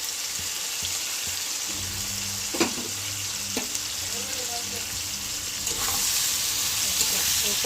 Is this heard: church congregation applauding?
no